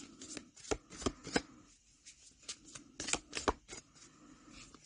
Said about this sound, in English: I just want to shuffle it before I choose another one